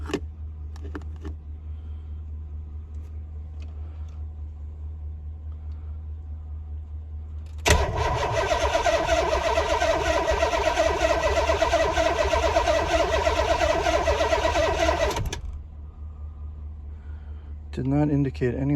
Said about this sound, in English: I'm just going to turn it over with the key.